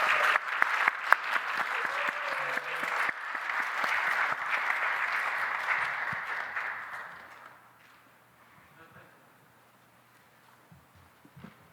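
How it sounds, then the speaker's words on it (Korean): A church congregation gives warm welcoming applause at a youth worship service. Steady clapping fills the room for about seven seconds, then thins and fades to quiet with a few scattered claps. "큰 박수로 환영해 주십시오"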